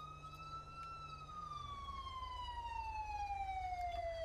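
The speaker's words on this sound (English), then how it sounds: "Got the ambulance on scene here just in case." An ambulance siren in the GTA 5 video game wails with one long tone that slowly falls in pitch, steady and moderately loud over a low rumble of traffic.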